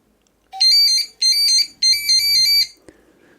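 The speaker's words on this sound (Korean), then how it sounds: "네, 추억의 벨소리." Classic ringtone of a Motorola StarTAC flip phone converted to Android, three loud bursts of bright electronic ringing separated by short gaps, ending abruptly with a brief click.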